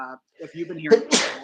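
A person talks, then one sharp, forceful sneeze bursts out close to the microphone at the end.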